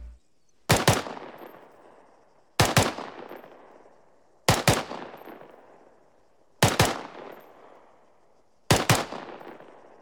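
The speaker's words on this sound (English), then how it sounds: "So, a rapid rate of fire would sound something like this." Bursts from an M4 rifle fired at a rapid rate in double taps on a range, five loud paired shots spaced about two seconds apart, each sharp crack trailing into a short echo.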